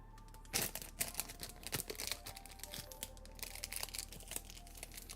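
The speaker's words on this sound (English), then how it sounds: "I have this extra plastic bag that'll do." A plastic bag crinkles and rustles in close, irregular bursts for several seconds, with sharp crackling spikes over a quiet background.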